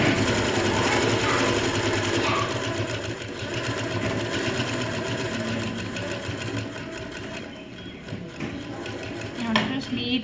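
A sewing machine stitches plain blouse fabric with a loud, fast, even mechanical chatter that runs almost without a break, easing near the end, while someone talks over it.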